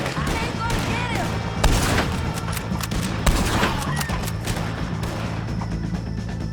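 Video game Red Dead Redemption 2 shootout against O'Driscolls: repeated sharp gunshots and volleys crack over a busy scene, with voices speaking between and under the shots.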